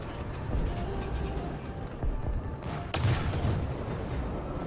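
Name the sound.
tank gun firing and hitting in video game War Thunder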